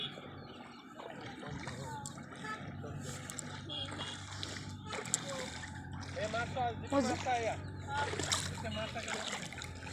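Someone wades into the cold water of the Dhansiri river, with intermittent splashes and sloshing close by while voices talk over them.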